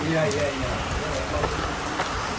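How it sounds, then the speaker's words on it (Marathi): Steady rain pattering on surfaces, a dense hiss with scattered drop impacts, and faint voices in the background. "काय फील आहे भाई, काय पाऊस पडतो भाई"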